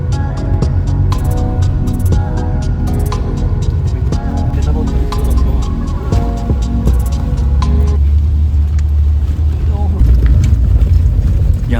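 Off-road vehicle climbing a rough, bumpy mountain track on the way from Shimla to Kufri, its engine droning steadily and loud, with rattles and jolts throughout and people talking over it.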